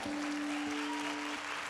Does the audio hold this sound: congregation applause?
yes